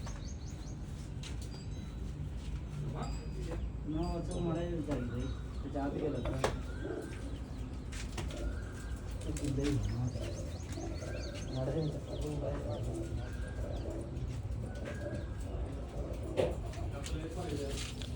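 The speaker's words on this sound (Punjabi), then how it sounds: "ਅੰਦਰ ਵੀ ਕਬੂਤਰ ਨੇ" Pigeons in a loft holding six breeding pairs and hand-raised young coo in soft, rolling repeated calls, with occasional chirps and steady low background noise, while someone talks over them.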